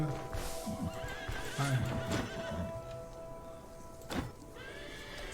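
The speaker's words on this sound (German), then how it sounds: "Nochmal, das sind Pferde." Horses clip-clop along at a trot while one lets out loud neighs and whinnies, with faint background ambience, in the video game Stoneshard.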